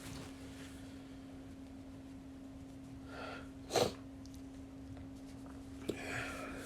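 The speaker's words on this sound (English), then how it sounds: "Felt a sneeze coming on" A single sharp sneeze bursts out close to the microphone midway through an otherwise quiet stretch with a faint steady hum, followed by a small snort-like breath.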